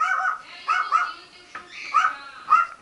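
Several dogs bark and yip outdoors before being bathed, with repeated bursts of sharp, mid-pitched barks and short whimpering yelps coming in clusters at close range, with no talk.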